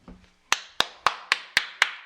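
A small group claps in sync at the start of a podcast episode: seven sharp, evenly spaced claps, loud and close, following a brief soft tap, with no talking.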